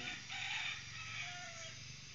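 A year-old fighting rooster with feathered feet and bright red, glossy plumage gives a single drawn-out crow, fairly faint and heard alone.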